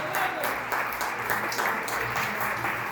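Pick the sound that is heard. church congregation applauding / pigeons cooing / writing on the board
church congregation applauding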